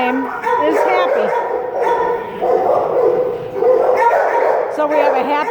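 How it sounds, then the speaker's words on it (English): A shelter dog named Happy barks and yips from kennel 23 at the Cuyahoga County Animal Shelter, with repeated loud, close barks and whimpers running through the whole stretch while a person talks over them. "This dog's name is Happy."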